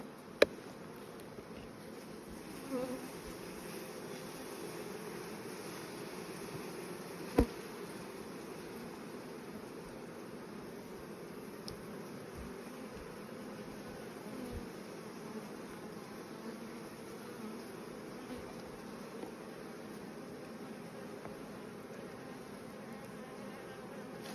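Honeybees from a hive with a failed, poorly mated queen hum in a steady, continuous drone, close and even, broken only by a few faint knocks and clicks.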